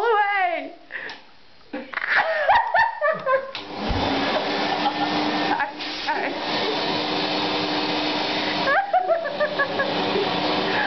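A vacuum cleaner drones steadily for most of the stretch after a brief start, running loud and continuous beneath a voice imitating or talking over it, with short dips in the noise.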